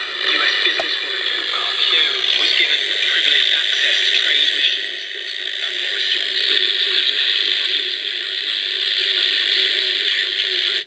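A basic two-transistor AM radio with a small indoor antenna, tuned around 2-3 MHz, gives a steady hiss of static with whistles and faint drifting tones as it is tuned, loud and continuous with no talk.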